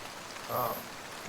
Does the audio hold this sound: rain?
yes